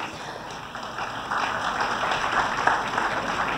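An audience at a college lecture applauds a guest professor, with steady clapping that swells partway through and continues over a low background hum.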